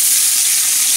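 Bacon and onions sizzling in a pan on lowered heat while making coq au vin, a steady, close, loud frying hiss with no talk over it.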